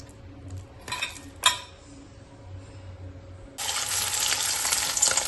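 Egg fritters fry in a wok: a couple of metallic clinks from utensils over a quiet background, then a sudden, loud sizzle of hot oil bursts in and continues steadily to the end.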